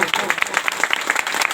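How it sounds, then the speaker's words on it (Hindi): A crowd at a community gathering in Lohardaga claps hard in quick, steady rhythm, loud and close, with a voice speaking over it. "ताली खड़का जोर से"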